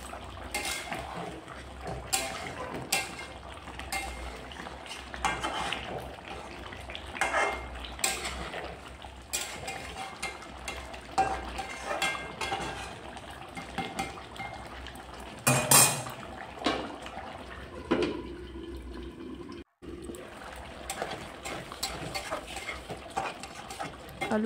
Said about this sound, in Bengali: আবার একবার ঢাকনা খুলে নেড়ে চেড়ে আবার একবার ঢাকনা দিয়ে দিচ্ছি।